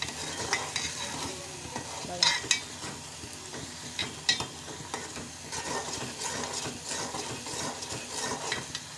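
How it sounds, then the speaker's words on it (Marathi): Masala for a toll fish dish fries in hot oil with a soft, continuous sizzle, while a utensil scrapes and stirs it in repeated close clinks and scuffs across the pan. No one speaks. "मिक्स करून घ्यायची आणि थोडंसं तेलामध्ये आपण टाकलेली आहे ना, चांगली ती शिजायला द्यायची"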